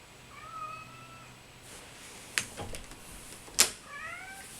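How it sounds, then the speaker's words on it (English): A house cat meows indoors, its calls near and moderately loud and spaced across the clip, with a few sharp knocks and clatters in between. "The cat's just come in, and he's meowing"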